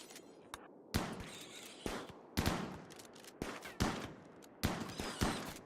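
Repeated gunshots from colonists firing at a wild boar in the RimWorld video game crack out in sharp, separate bursts about once a second, alone without talk.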